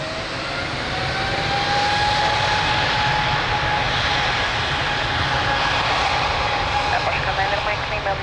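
Airbus A320 jet airliner taking off at Lisbon Airport, a loud, steady broadband engine roar that holds strong for the whole stretch, with faint radio-style talk under it.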